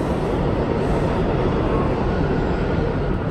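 A New York subway train fills the space with a loud, continuous, even roar of wheels and motors, unbroken from start to finish.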